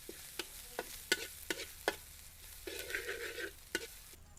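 Spices being stir-fried in a pan, with sharp spatula scrapes and clacks at irregular intervals over a steady background sizzle, close and fairly clear, no voices.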